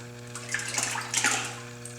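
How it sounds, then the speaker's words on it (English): A handmade knife blade, freshly ground with bevels, dips into a bucket of water to cool, making a short, soft, close sloshing splash. "I am putting my knife in a bucket of water, again to cool it off"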